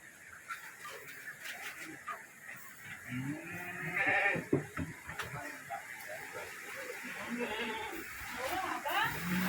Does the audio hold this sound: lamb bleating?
yes